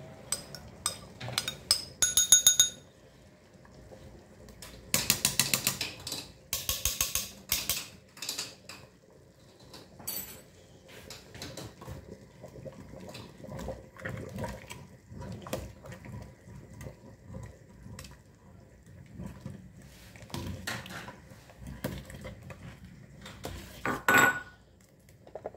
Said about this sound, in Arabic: وغادي ندور بهم الحريره